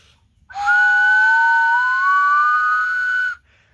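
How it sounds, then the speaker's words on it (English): A ceramic double whistle sounds one long sustained blast of about three seconds, two steady pitches sounding together, clear and close, ending abruptly. "I've got a double whistle"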